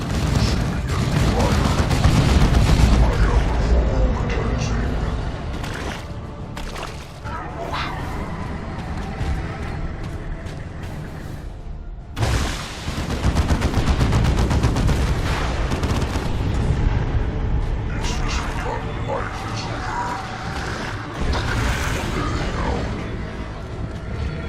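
Squad gunfire in the Dawn of War 2 video game, dense bursts of shots and heavy battle noise filling most of the stretch, with a brief lull midway and shouted voices mixed in.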